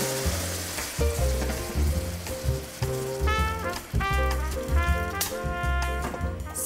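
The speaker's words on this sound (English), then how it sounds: "pour some boiling water over this and let it simmer" A pot of lamb rogan josh sizzles and bubbles steadily after boiling water is poured in, a dense continuous crackle and hiss with a droning tone underneath, close and fairly loud with no talking.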